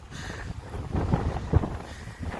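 Strong wind buffets the microphone on a beach in low, rumbling gusts, with a few heavier thumps of blowing air and no voices.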